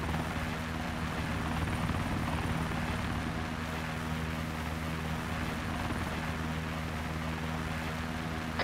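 Helicopter hovering in the Arma 3 video game, a steady, loud rotor and engine drone holding constant throughout with no talk.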